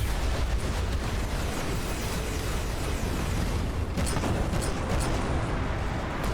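Giant rotary ion cannon in a space battleship game firing at an asteroid core, a dense, continuous roaring barrage of blasts and explosions with heavy low rumble, loud and sustained throughout, with sharper bursts near the end.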